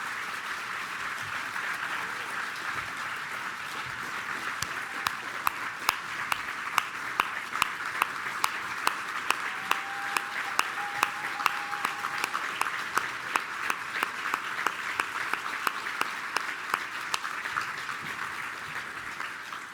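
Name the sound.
audience applause for award honorees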